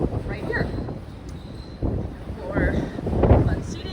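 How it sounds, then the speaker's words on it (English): Strong wind gusts buffet the open top deck of the MSC Meraviglia cruise ship. The rumble is close and uneven, swelling in bursts and continuing under a person speaking. "It's really windy"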